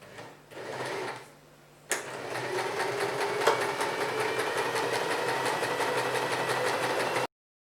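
A sewing machine runs a temporary stitch through fabric, starting after a short whir and click and then humming in a fast, even rhythmic chatter close by until it stops abruptly.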